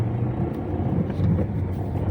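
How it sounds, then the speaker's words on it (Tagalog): Steady low rumble of heavy traffic on the NLEX expressway in the northbound lanes, a dense continuous drone of car engines close by with no clear single vehicle standing out. "Kaya pala matindi talaga ang traffic"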